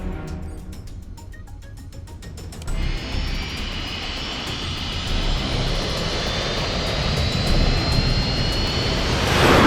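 A jet aircraft engine spools up for takeoff in a thriller movie scene, a low roar that swells after a few seconds and keeps building to a loud, steady rush with a rising whine.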